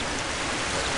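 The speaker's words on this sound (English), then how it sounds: "Lovely waterfall." Steady broadband rushing of a waterfall in the 2001 PC game Harry Potter and the Philosopher's Stone, continuous and even with no breaks for the whole brief moment.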